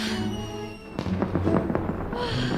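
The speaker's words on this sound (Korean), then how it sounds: "어디서 불꽃놀이 하나 봐요." Fireworks go off somewhere at a distance, a cluster of crackling, popping bursts breaking in suddenly after a quieter, tonal stretch and continuing in rapid succession.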